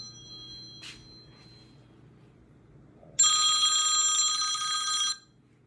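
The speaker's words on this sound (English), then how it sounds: "that's husband's phone." A phone rings indoors: a brief chirp, then a loud, sustained electronic ringtone for about two seconds, heard alone over a faint low hum.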